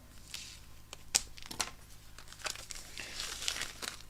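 Paper flaps of a card keeper kit being opened, crinkling and rustling in a handful of quick, close bursts with no talking.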